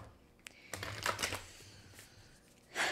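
Tarot cards shuffled by hand, a soft papery riffle of brief bursts and flutters that rises to a louder rush at the end, fairly close with no talk.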